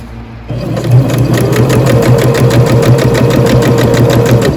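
A close sewing machine stitches a silk taffeta petticoat seam, starting up after a brief quiet moment and then running in a loud, steady, rapid mechanical whir.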